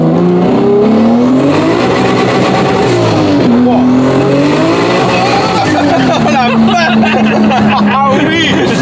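A car accelerates hard in third gear, its engine note climbing and dipping loud and close throughout, with voices talking over it.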